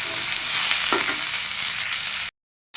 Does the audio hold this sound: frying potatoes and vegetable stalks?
yes